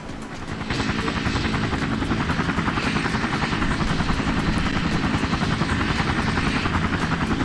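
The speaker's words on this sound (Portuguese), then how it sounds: "Cadê o helicóptero?" A helicopter in the firefighting and rescue game Emergency 4 (Dutch mod) comes in to land, its rotor thumping and engine whine starting up then holding steady and loud throughout.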